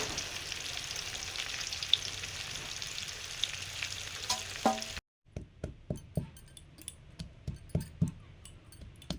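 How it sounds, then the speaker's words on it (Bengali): Gobindobhog rice hitting a hot pot for khichuri, a steady sizzle for about five seconds, then a short silence followed by sharper crackling pops and stirring clinks close by, with no talking. "গোবিন্দভোগ চাল দিয়ে দিচ্ছি"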